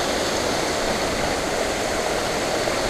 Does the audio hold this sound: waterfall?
yes